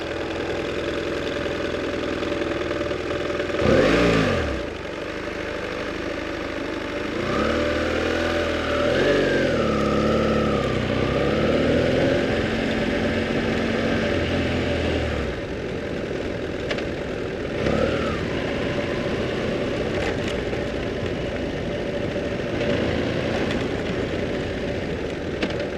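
A motorcycle engine idles steadily at close range for the whole stretch, with a low continuous drone and a few brief revving swells; no one speaks.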